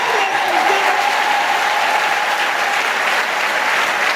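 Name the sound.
congregation applauding for Mary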